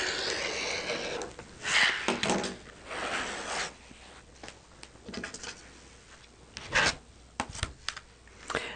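Green fabric being cut into 5-inch strips, soft rasping swishes of a blade through cloth in several short bursts, close and fairly quiet.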